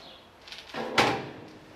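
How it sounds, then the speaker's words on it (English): The cabinet door of a supermarket juicer swings open with a soft rub that ends in a sharp click or thud, close by. "and then we open the door."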